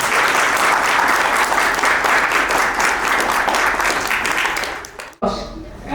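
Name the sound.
audience applause at education fair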